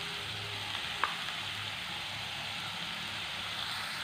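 Chopped onion, ginger-garlic paste and green chilli sautéing in hot oil, a steady close sizzle and crackle with one brief utensil tap, no voices.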